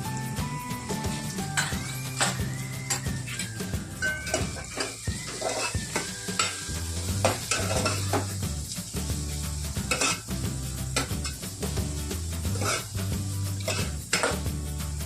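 Cauliflower with chilli powder is stirred in oil in a pan, with repeated metal spoon scrapes and clanks against the pot over a low sizzle, rhythmic and close throughout.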